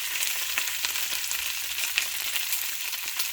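Thin beef steak slices sizzle in a hot pan, an even, close frying hiss with scattered pops and crackles throughout, no voices.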